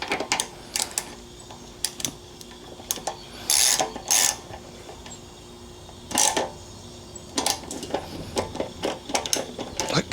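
Front bolts on the gas tank of a 1995 Harley Softail are tightened in a home garage, producing close, quiet ratcheting clicks in short bursts with pauses between, and some talk.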